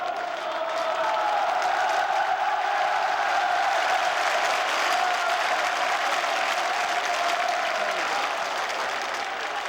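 Massive crowd of office workers and citizens roaring outside Myeongdong Cathedral during the June 1987 democracy uprising, a continuous dense wall of shouting and cheering that never lets up.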